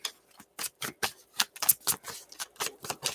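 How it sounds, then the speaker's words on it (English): Tarot cards being shuffled by hand, a quick irregular series of crisp papery riffles and slaps close up, about a dozen bursts with short gaps between them and no talk. "I put it right back in and keep shuffling."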